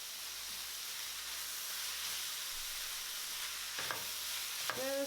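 Scallions and parsley stir-fried for a vegan broccoli slaw fried rice give a soft, steady sizzle and hiss in the pan, with a couple of brief scraping stirs near the end and no voices.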